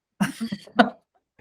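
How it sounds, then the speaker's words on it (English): A short burst of coughing, two or three quick harsh coughs close to the microphone, followed by silence. "he's coughing"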